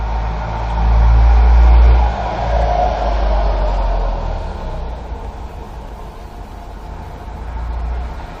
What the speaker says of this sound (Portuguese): E todos os caminhões do mundo resolvem passar na minha rua quando eu estou gravando o vídeo.